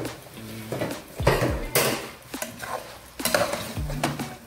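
Spoon or utensil stirring pie filling in a metal pan, several distinct scraping and clinking strokes spaced irregularly, fairly close and clear, with no talking.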